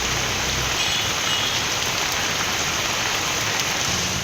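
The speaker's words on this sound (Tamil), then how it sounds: "அரியலூர் மாவட்டத்தில் செந்துறை, அங்கனூர், ஜெயங்கொண்டம் உள்ளிட்ட பகுதிகளில் மிதமான மழை பெய்தது." Moderate rain falls steadily across Ariyalur district towns such as Senthurai and Jayankondam, an even, continuous hiss of drops with no pauses and no voices.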